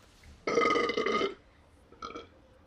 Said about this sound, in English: I am very self-conscious about my burp, and that kind of sounded like Chewbacca.